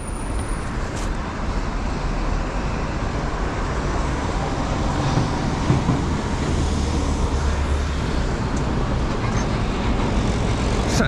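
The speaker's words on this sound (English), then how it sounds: "Saturday morning traffic building up." Saturday morning road traffic in Tokyo's Roppongi and Azabu area, a constant, loud roar of passing cars and heavier vehicles with no pauses, heard from close to the roadway.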